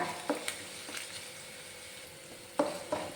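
Ginger and garlic fry in a pan, a soft steady sizzle broken by a few sharp clatters of a utensil stirring the pan, close and fairly quiet, with no talk.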